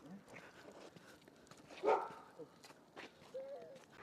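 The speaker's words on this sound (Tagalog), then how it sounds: "Ang ingay ng aso, ah." A dog barks a couple of times, faint and distant, outside near a second-hand store in Switzerland, with light background noise and a soft voice nearby.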